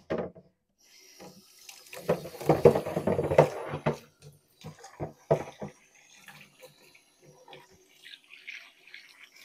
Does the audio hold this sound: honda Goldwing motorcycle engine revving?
no